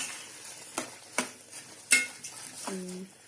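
Poha (flattened rice) being stirred into a jaggery syrup in a pan, a few separate scrapes and clinks of the spoon over a faint background hiss, with a short bit of voice near the end.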